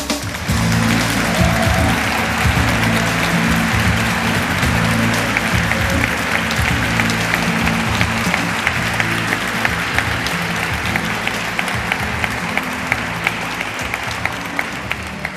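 An audience at the Congreso Futuro 2018 conference applauds as the speaker Claudio Naranjo is introduced, a loud, sustained wall of clapping in a large theatre hall with a low hum beneath and sharper individual claps standing out toward the end.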